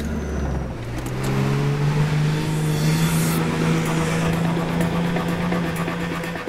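A 4WD on tyres let down to 18 psi, labouring up a steep soft sand dune: a loud, close engine drone that holds a strained, rising pitch throughout, steady and continuous with no talking.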